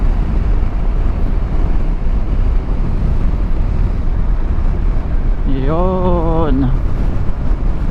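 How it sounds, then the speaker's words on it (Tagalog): Steady, loud wind roaring and buffeting the microphone throughout, with a brief voice near the end, outdoors in Batangas, Philippines. "Tapos ang lakas ng hangin."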